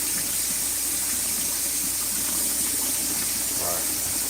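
Running tap water rinses kale while a zuppa soup is being made, a steady close rush and hiss that carries on without a break.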